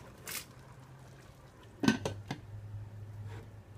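A metal lid clatters onto a pot of chicken paprikash with a couple of sharp clinks, followed by a low steady simmering hum.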